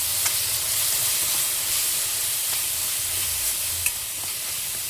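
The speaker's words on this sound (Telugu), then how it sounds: "2 నిమిషాలు ఫ్రై చేసుకుందాం." Ground paste frying with onions in a pan gives off a steady, bright sizzle and hiss, with a few faint utensil clicks scattered through it.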